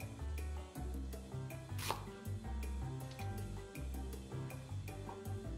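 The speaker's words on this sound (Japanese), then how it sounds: "2ミリ幅に切る。" A knife chops steadily on a cutting board, slicing vegetables into thin 2 mm strips for a pork miso soup. The cuts come in quick, regular taps, close and fairly quiet, with no voices.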